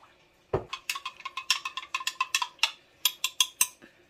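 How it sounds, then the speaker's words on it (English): A spoon stirring the liquid for braised pig feet in a pot, producing a quick, uneven series of bright metallic clinks and scrapes against the pot, close and fairly loud. "take your spoon, mix it on up."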